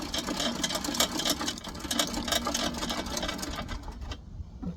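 The table of a Titan thicknesser planer is wound down by hand, giving a rapid, rattling mechanical clicking that runs steadily for several seconds before fading at the end.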